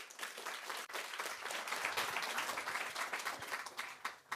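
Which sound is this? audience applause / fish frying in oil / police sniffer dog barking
audience applause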